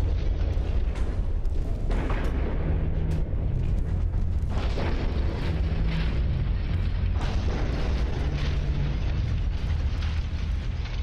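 Heavy metallic crunching and booming of warships colliding in the naval game Ultimate Admiral: Dreadnoughts, a dense, loud, continuous roar with repeated deep impacts and no talking.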